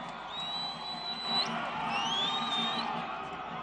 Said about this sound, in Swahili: Nataka tumpigie makofi Baba Raila Amolo Odinga.